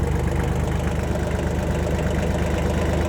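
A Kioti LB1914 compact tractor's diesel engine idles steadily with a low, even rumble and faint knocking pulse, close and continuous with no talk over it.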